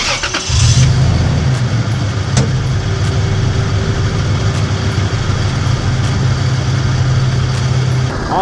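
A car engine cranks and catches close by, then settles into a steady, loud idle with a faint rattle from the drive belts and pulleys in the engine bay.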